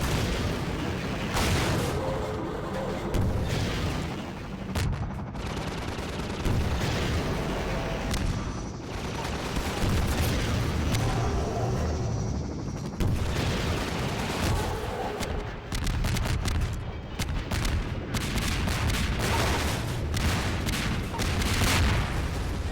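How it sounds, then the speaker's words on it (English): Rocket blasts and heavy weapon fire in Half-Life 2: Episode 1, a dense, continuous barrage of booms and cracks over a loud rumbling battle din, with sharp impacts recurring throughout. "you can really distract it with the rockets"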